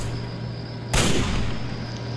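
A single sharp gunshot or blast rings out in the game Fallout 3, a loud sudden crack over a steady low ambient hum, followed by a brief decaying tail.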